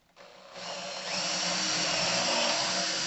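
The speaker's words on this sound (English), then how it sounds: "I have to put in some pins to hold the sanding sticks, so I pilot a couple of holes." A power drill bores pilot holes for pins on a workshop sanding station, spinning up from silence into a steady, loud whirring drone that climbs in pitch and holds.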